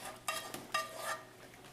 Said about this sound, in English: at this point I'm ready to add my onions and mushrooms and red pepper